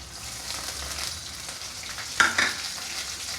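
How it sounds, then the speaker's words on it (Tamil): Dried cluster beans fry in hot oil for a tamarind curry. The pan gives a steady close sizzle with a couple of sharper crackles and pops near the end. "அப்படியே அதில் பொரியட்டும் எண்ணெயிலே பொரிஞ்சிட்ருக்கட்டும்"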